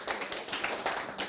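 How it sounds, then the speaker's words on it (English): A short burst of audience applause at a fair launch event in Ghana, quick overlapping claps in an even, fairly close patter lasting about a second. "Please, a better round of applause."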